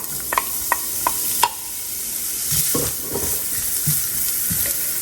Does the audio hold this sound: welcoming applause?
no